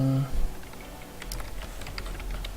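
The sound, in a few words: typing text on a computer keyboard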